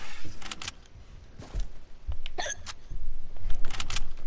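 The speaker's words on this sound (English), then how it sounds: "are you guys getting annoyed by my hiccups?" Hiccups from a young gamer during an Easter sniper one-shot free-for-all match, several sharp, close hiccups spaced irregularly among faint background clatter and game noise.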